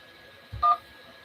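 A single short telephone keypad tone sounds while an automated university phone menu is being navigated, brief and clear over a faint steady line hum.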